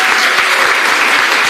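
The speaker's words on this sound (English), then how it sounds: "give one more huge round of applause" A large audience applauds graduating doctoral students at a PhD commencement ceremony, sustained and loud close-up clapping with no speech.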